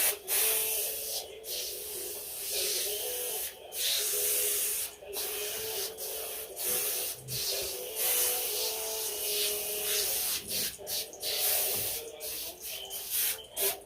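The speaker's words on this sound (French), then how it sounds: "on secoue, on vaporise. Donc là, c'est sous forme de mousse." Foam cleaner sprays from a can onto the delicate sound insulation of a car engine bay, in a series of short, close hissing bursts with brief pauses between them.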